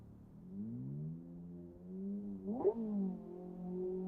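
A racing car in Assetto Corsa with a Ferrari 355-style engine drones steadily, then its pitch sweeps up sharply in a brief rev before settling back into a smooth, even hum.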